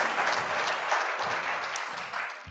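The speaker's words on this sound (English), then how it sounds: "a round of applause" A conference audience applauds steadily, a dense wash of many hands clapping that carries on throughout before easing slightly at the end.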